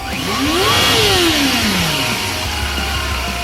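A 1990s Yamaha FZR 400RR four-stroke sport bike revs up to a high-pitched scream and drops back, a close, loud rising-then-falling wail over a steady engine rumble.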